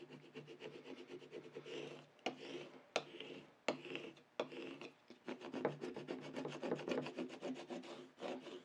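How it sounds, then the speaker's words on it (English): A plastic scraping tool is dragged firmly back and forth over layered craft vinyl, producing close, quiet rasping rubs in a steady repeated rhythm with brief pauses between strokes. "I'm going to go with my scraping tool"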